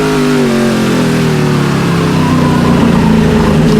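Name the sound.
V8 engine roar of Speedcar race cars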